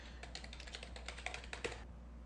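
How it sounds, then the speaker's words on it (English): Keys on a computer keyboard click in a quick, quiet burst as a name is typed, about two seconds of light tapping over a low background hum. "we'll just go ahead and type your name in here."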